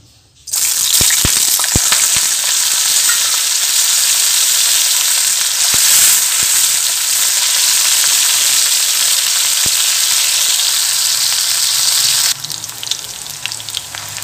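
Small potato pieces fry steadily in hot oil, a loud continuous sizzle with scattered crackles and pops that starts abruptly after a brief quiet moment and softens slightly near the end.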